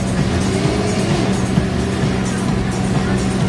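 A motocross motorcycle engine roars loud and steady throughout during wheelies at an X-Games freestyle exhibition, with crowd noise mixed in.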